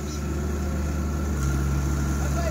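A JCB 3DX backhoe's diesel engine labours at night while pulling a tractor stuck in mud, giving a steady heavy drone with a deep low hum and no clear breaks.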